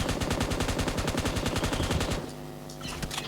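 Pump shotgun fire in the PUBG Mobile video game, a dense run of loud, rapid gunshot blasts lasting about two seconds, then cutting off into a quieter in-game background with a few faint clicks.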